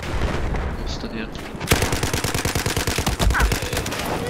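Rapid automatic gunfire from the video game Battlefield 4, loud close bursts of evenly spaced shots that start abruptly partway through after a quieter stretch of game noise.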